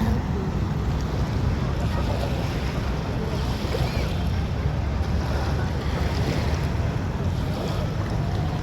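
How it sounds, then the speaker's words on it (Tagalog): Ocean surf roars in a constant, dense wash of noise at Dolomite Beach on Manila Bay, with wind rushing across the microphone throughout. "ito yung dagat"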